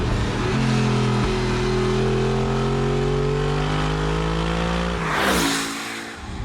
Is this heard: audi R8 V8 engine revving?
yes